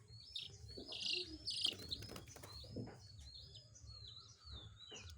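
Young chicks kept together with kittens chirping in repeated high, thin peeps, a few birds overlapping at close range with quiet gaps between calls.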